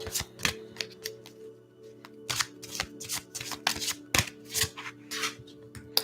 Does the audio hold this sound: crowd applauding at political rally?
no